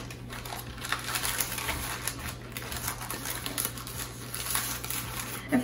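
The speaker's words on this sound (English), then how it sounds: "I'm gonna grab my parchment paper and just see if it fits." Parchment paper, fitted over stretched homemade pizza dough, crinkles and rustles in irregular close bursts over a steady low hum, with a louder crackle at the end.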